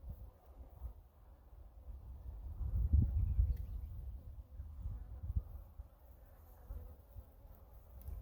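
Honeybees buzzing in an open hive during an inspection, a low, faint hum that swells in the middle and then settles, with no talking over it.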